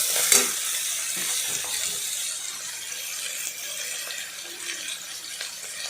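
Eggs and flat beans fry with salt in a pan, giving a steady, close sizzle with occasional stirring clatter and no voices.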